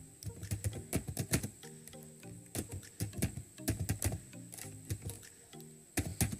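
C++ code being typed on a computer keyboard, bursts of quick, close key clicks in uneven rhythm with short pauses between words.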